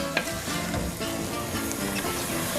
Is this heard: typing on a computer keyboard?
no